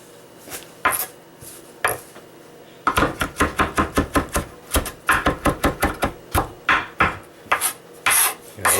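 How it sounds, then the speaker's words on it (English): Parsley being chopped on a cutting board with a knife, giving sharp, close, rhythmic knocks in rapid bursts of several strokes with short pauses between, loud and clear with no talk. "Got a nice finely chopped parsley there now"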